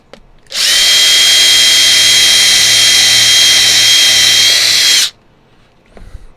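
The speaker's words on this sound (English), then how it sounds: "Okay, ream that out." A power tool reams out a hole in a kit part, one loud continuous high whir lasting about four and a half seconds, starting and stopping abruptly, with quiet handling noise around it.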